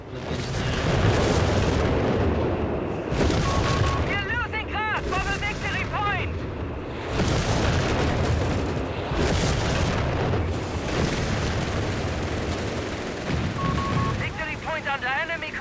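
Gunfire and explosions from a Company of Heroes 3 battle, with booming blasts, bursts of fire and chirping sounds under steady commentary.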